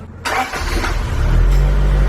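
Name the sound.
vintage JDM car engine starting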